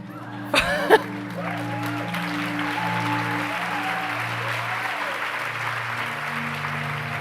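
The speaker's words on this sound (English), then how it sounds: "I applaud each and every woman in this room" A room full of people at a women's empowerment event applauds steadily, a continuous wash of clapping at moderate level under a low sustained hum, with a couple of sharp knocks near the start.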